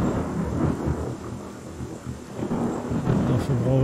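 Thunderstorm in the video game Journey of Life, a steady rumbling roar of thunder and rain that fills the background while someone talks over it throughout.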